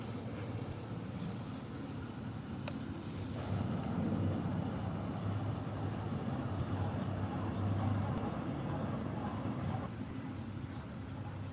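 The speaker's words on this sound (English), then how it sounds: "We have another boat coming." Low, steady engine drone of a boat on the water, swelling slightly as it draws nearer, with wind rushing across the microphone.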